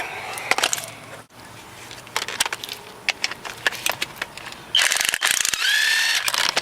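A hand ratchet backs out 14 mm bolts on the upper control arm of a 1995 Honda Civic, giving close, rapid bursts of clicking with metallic clunks and a brief squeal near the end.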